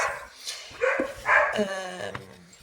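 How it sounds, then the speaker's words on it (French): A dog barks a few times in short, close yips and woofs, mixed with a man's speech over the top. "Ça aboie beaucoup, justement."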